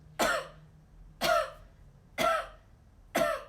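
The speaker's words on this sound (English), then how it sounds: "if you do this and you cough into your hand" Four sharp coughs into a hand, evenly spaced about a second apart, close and muffled.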